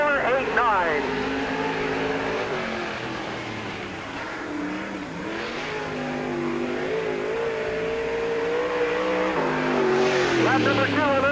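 A race car roars around Peoria Speedway on a qualifying lap, its engine note rising and falling steadily as it circles the oval, loud and continuous, with an announcer's voice running over the top.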